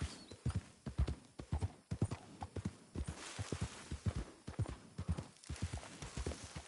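Horse hooves clip-clop close by in the video game Red Dead Redemption 2, in a steady, uneven gait, each step a sharp knock over a quiet background.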